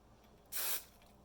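A single short burst of hairspray hisses for about a quarter second against a quiet background.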